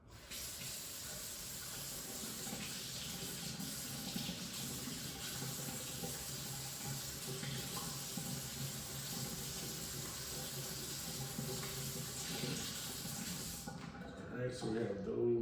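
Red onions rinsed under a running kitchen tap, a steady close rush of water that goes on without a break, then stops abruptly near the end with a brief clatter.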